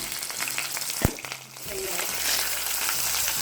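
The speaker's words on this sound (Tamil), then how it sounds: "நம்ம தாளிக்க வச்சுருந்த மசாலா சேர்த்துக்கலாம் நல்லா பொரிஞ்சு வரும்போது" Tempering spices hit hot oil for a Tamil-style mutton curry, giving a steady close sizzle and crackle with one sharp pop, running under faint background sound.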